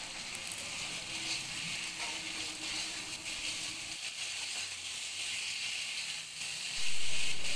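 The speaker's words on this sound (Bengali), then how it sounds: "এই অল্প জলটা দিয়ে ভালো করে নাড়াচাড়া করে কষাবো" Potato and ridge gourd with cumin sizzle in a pan while being stir-fried, a soft steady hiss with occasional scraping, fairly quiet, then a louder burst near the end.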